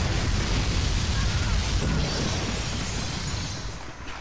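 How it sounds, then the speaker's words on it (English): A massive explosion roars as a sustained, loud blast, broad and rumbling throughout, slowly tapering toward the end. "shortly followed by a massive explosion where the Space Marines once were"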